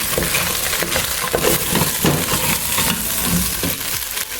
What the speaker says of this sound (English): And then you just keep stirring your meat until you achieve the golden brown color.